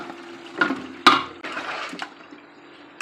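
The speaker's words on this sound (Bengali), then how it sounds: "এখন আমি চিকেনগুলো ঢেলে দিব এই যে" Marinated chicken pieces poured into a pan of cooked spiced masala: several wet plopping and splashing thuds in quick succession, close and moderately loud, with no talk.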